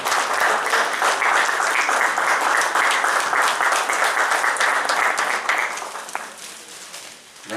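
Loud, dense applause from an audience at an award function welcomes a guest of honour. The clapping holds steady for several seconds, then thins and fades toward the end.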